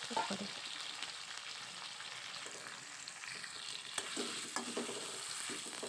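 Boiled potatoes frying in a pan for aloo dum, sizzling continuously while a spoon stirs and scrapes through them, close and steady with no voices.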